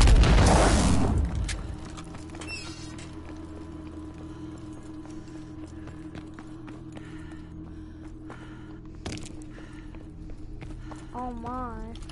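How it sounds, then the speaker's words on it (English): A single loud, booming explosion in a zombie video game opens the scene close up, then drops away to quieter game sounds with footsteps, while a person talks. "Oh no, I'm exploding."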